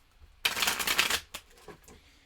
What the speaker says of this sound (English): I just shuffled them all in the opposite direction